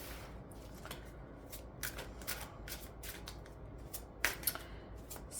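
Tarot cards being shuffled during a card reading, with soft, faint riffling and flicking repeated in short bursts and no talking.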